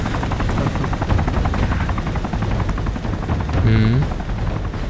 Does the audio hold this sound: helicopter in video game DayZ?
yes